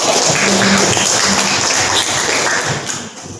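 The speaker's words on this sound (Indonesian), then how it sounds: "beri aplaus" A classroom of students gives a round of applause: loud, dense clapping that holds steady for a few seconds and then thins out toward the end.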